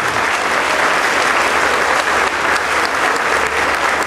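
Audience applause, a dense, loud, steady clapping from a crowd held throughout at close range, with no pauses.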